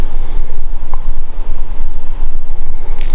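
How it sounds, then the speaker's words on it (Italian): Strong wind blusters across an open microphone, a steady low rumble with gusty buffeting throughout and no voices. "Ma c'è il vento lì."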